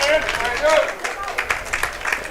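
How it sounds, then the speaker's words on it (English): A baseball crowd at Shipyard Park cheers and claps as its noise rises, a busy wash of applause and shouts with scattered sharper claps. "The crowd picking it up here at Shipyard Park"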